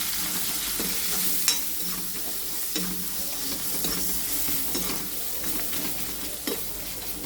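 Chopped onions sizzling in hot oil in a pan for a local chicken dish, a continuous bright crackle broken by scraping stirs of a spoon against the pan at intervals.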